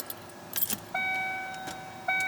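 Keys rattle briefly and close by, followed by steady electronic warning chimes as the ignition of a Ford F-250 diesel that sat unused for over ten years is switched on.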